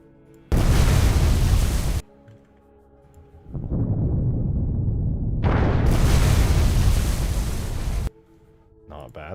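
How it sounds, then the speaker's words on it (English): Water frag grenade blasts in a Halo 3 mod, two loud broadband bursts separated by a lower sustained rumble, each ending abruptly, with no speech over them. "Maybe we can also include like the water frag grenade here."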